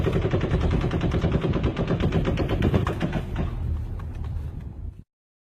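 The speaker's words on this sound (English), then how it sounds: "Perhaps the last burst of gunfire provides a clue. It ends in a strange stuttering slowdown." Rapid automatic gunfire from a bump stock rifle rattles in a sustained burst, then stutters and slows into uneven shots before cutting off abruptly.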